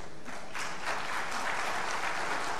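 An audience at a business knowledge summit claps, a dense, steady wash of applause that continues without a break and is heard alone, with no speech over it.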